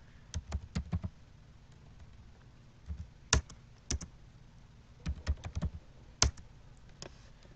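Bursts of close typing on a computer keyboard, quick clusters of crisp key clicks separated by short pauses, with no one talking.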